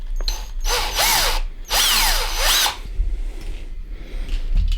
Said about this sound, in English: So this rivet here, drill that out, and then we can take the top off.